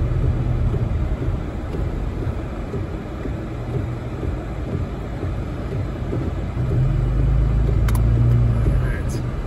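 A car cruises along a boulevard during heavy rain, its engine and tire noise forming a steady close rumble under a wash of broadband hiss, swelling slightly near the end, with no clear talking.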